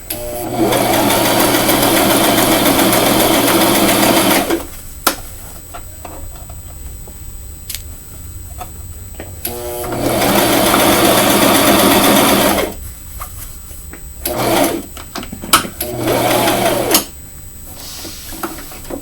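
Sewing machine running in long steady bursts while stitching a pink frock, with two sustained runs and a few shorter stitching spurts between quiet pauses, close and loud, no talking.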